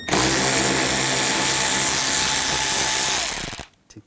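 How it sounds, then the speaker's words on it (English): A power tool with a T25 socket spinning out inner fender well screws on a 2011-2018 Volkswagen Jetta, one loud steady whir lasting over three seconds before winding down to quiet. "Now on the inner fender wells, we're going to take these screws out."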